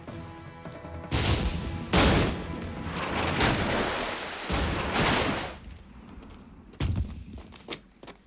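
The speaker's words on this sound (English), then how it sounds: "Colonel Munro, we're under cannon fire" Cannon fire in the woods near a fort in the Last of the Mohicans series, several heavy booms and crashing impacts at irregular intervals, rising and falling through a dense rumble, with no voices.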